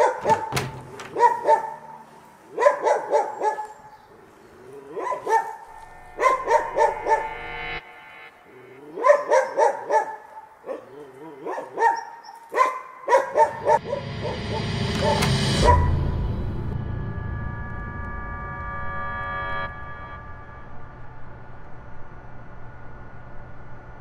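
A dog barks repeatedly in short bursts, loud and nearby, followed by a long stretch of low rustling and muffled thuds.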